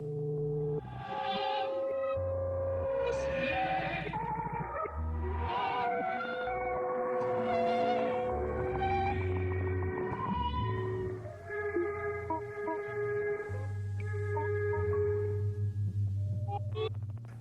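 A string of synthetic electronic tones, pure-sounding pitches sliding and stepping in a simple melody, thin and buzzy like early computer-made music.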